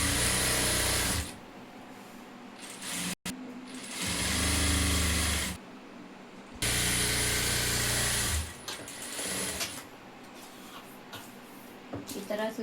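Sewing machine stitching a blouse lining to its main piece, running in loud sustained bursts separated by brief pauses, with a person speaking in between.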